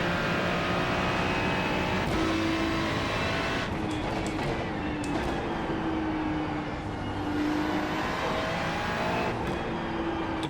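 Ferrari engine in the Assetto Corsa EVO racing sim, a steady loud drone with rising and falling revs through gear changes over about ten seconds, no voices.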